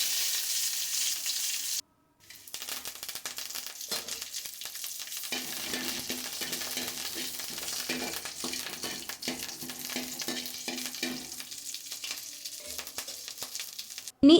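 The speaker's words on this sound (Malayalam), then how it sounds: "ആ ഒരു സമയം കൊണ്ട് നമുക്ക് കടുക് പൊട്ടിച്ചെടുക്കാം." Mustard seeds splutter and pop in hot oil, making a continuous soft crackling sizzle with dense, irregular pops. A brief silence comes early on, then the spattering resumes and carries on steadily, fairly quiet and with no voices.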